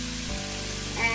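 Peppers and broccoli hit a hot pan while a rice medley cooks, giving a sudden soft sizzle that swells toward the end, close and moderately quiet.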